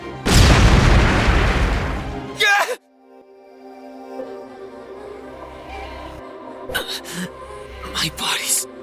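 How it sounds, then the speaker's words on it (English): A fire magic crystal detonates in the Re:ZERO video game, a loud, broad boom bursting at the start and rumbling for about two seconds before cutting off, followed by quieter low rumbling and a few short sharp bursts near the end. "From here, I'll use these fire magic crystals."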